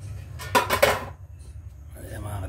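A metal lid set onto a cooking pot in a home kitchen, one short clattering clank, with a person talking around it.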